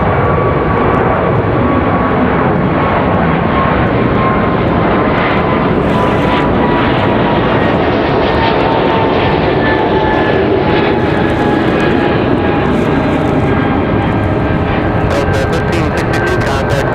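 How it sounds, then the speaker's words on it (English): Delta Airbus A220 jet departing Raleigh-Durham International Airport with an early rotation, loud sustained takeoff roar with descending engine tones as it climbs away, steady and close throughout. "Do that after our A220 departure. Nice early rotation."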